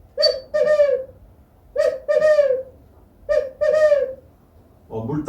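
A human voice imitates an owl with repeated hooting calls in three close, loud groups separated by short pauses, and a brief rustle follows at the end.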